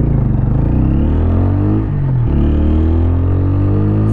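A 2024 TVS Apache RTR 160 4V motorcycle in rain mode pulls away in first gear, its loud, close engine note rising steadily, dipping briefly midway, then climbing again.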